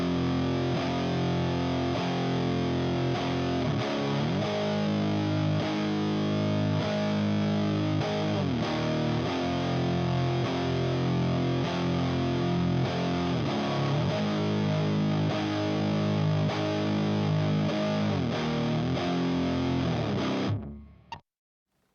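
Electric guitar fed through a Ram's Head Big Muff fuzz pedal, played as a thick, sustained, saturated wall of chords with rhythmic shifts throughout, loud and steady with no talk, cutting off abruptly near the end.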